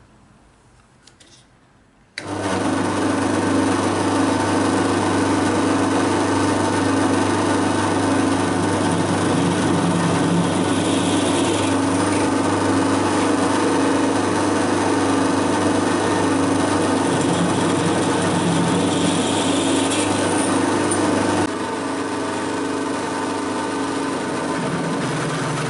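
A metal lathe runs steadily while a quarter-inch drill bit bores into the workpiece, following an eighth-inch pilot; a loud, continuous machine hum with harmonic whine starts abruptly after a quiet moment and holds unchanged, easing slightly near the end.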